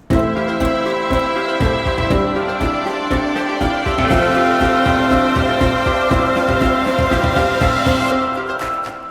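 A dense, loud musical passage with a cymbal crash ringing forward, then a reversed cymbal swelling upward, over steady rhythmic beats.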